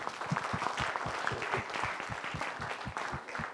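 Audience applause at a corporate HR summit, a dense, steady patter of many hands clapping close by that holds evenly at moderate loudness for the whole stretch, with no speech over it.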